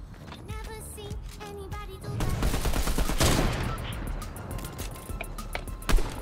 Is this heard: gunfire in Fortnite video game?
yes